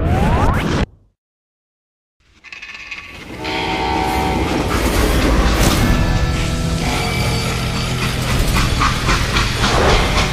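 A train in the western video game Call of Juarez Gunslinger cuts out briefly to silence, then returns as a loud, steady rumble of rolling wagons with a sustained horn-like tone and rhythmic clacking.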